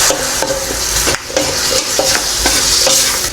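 Two onions frying and being stirred in a little leftover oil from frying marinated pork for pork steak, a loud steady sizzle broken by rhythmic scraping strokes of a utensil across the pan.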